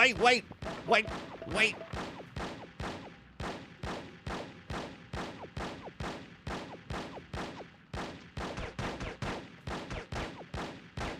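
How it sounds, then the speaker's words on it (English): Rapid gunfire rips through a shootout in the spy video game No One Lives Forever, a long run of sharp, evenly spaced shots at a steady rhythm for the whole stretch, with some brief heavier bursts near the start. "Where are they shooting from?"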